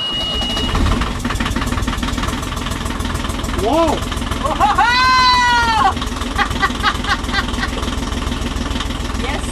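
An engine cranks and catches, then runs with a steady idle while excited voices shout and cheer over it.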